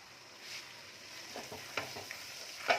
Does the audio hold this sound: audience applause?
no